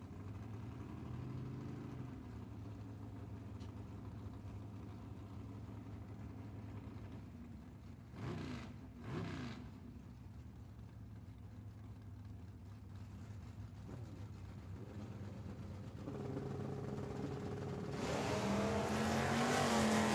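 Drag racing launch at a dragway with a Plymouth Duster car and a Kawasaki motorcycle: steady engine drone and revving builds, with a brief loud burst mid-way and a rising roar toward the end.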